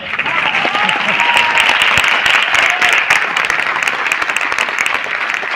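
Audience applause at a business success celebration speech in Noida: dense, loud clapping from a crowd, steady and sustained throughout without a break.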